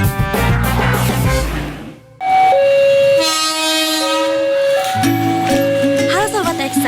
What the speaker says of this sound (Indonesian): Kereta api masih memanfaatkan roda dengan rel sebagai lintasannya, sehingga ketika kereta api melintas pasti akan